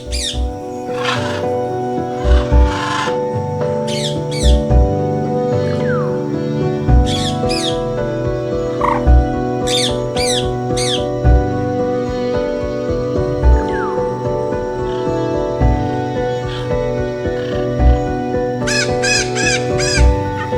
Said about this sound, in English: macaws soar like fire and sapphire across the sky